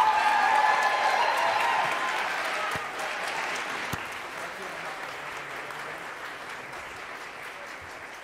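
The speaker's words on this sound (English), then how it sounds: "please give a Bozeman, the Montana jazz fan round of applause to Mr. Kellen Moore on the piano." An audience at a university jazz concert in Bozeman, Montana claps for a pianist, dense applause that starts strong and slowly thins out over several seconds.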